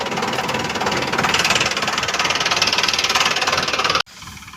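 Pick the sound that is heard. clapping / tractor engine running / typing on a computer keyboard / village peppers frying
tractor engine running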